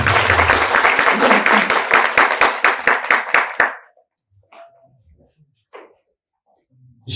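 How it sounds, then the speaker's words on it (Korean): Seminar audience applause for guest speakers, loud dense clapping for about four seconds that thins into a few final claps and stops, followed by near silence with faint small sounds. "박수 한번 주십시오"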